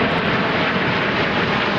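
A Canadair CT-114 Tutor jet roars overhead as a loud, steady broadband rush of engine noise that stays constant and close for the whole stretch, with no voices.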